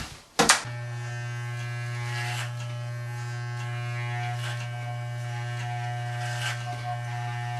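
Electric hair clippers with a number 2 guard buzz steadily while tapering short blonde hair up the back of the neck, a close, even motor hum after a brief click at the start, with slight changes as the blade moves through the hair.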